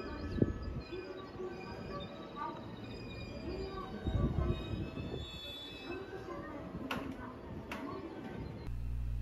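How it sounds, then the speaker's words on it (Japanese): A JR West Series 321 Rapid Service (Kukan Kaisoku) commuter train on the JR Kobe Line pulls into a station, its steady rumble and wheel noise filling the platform, with a few brief squeals and pigeons cooing nearby. "ちょうど来たのは区間快速という列車です。"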